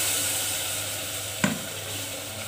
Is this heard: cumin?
yes